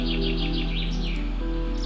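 Birdsong rings out in the Muniellos forest reserve in Spain, a run of repeated high chirping notes over a constant low drone of background noise, moderately close and steady throughout.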